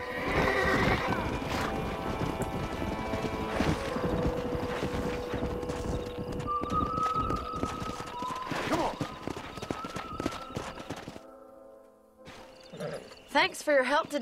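A horse in the video game Red Dead Redemption whinnies while hoofbeats clatter rhythmically, mixed with game music and a narrator's voice talking over much of it.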